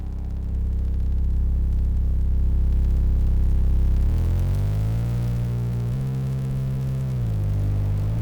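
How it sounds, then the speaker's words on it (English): A steady electrical buzzing hum, low and constant, that shifts its pitch a few times partway through. "The goal here was to produce a sound that is the sound of electricity"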